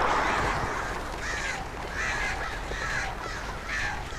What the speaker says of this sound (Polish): Ptaki, spadać mi stąd.